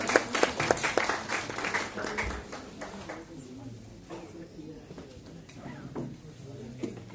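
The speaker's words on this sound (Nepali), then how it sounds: "ताली बजाएर हामी स्वागत गर्छौँ" An audience at a formal human rights commission event claps in welcome, a burst of applause at the start that fades into scattered claps under a nearby voice.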